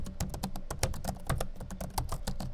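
Rapid typing on a gaming laptop keyboard with a numpad, a quick irregular run of crisp key clicks up close with no voices.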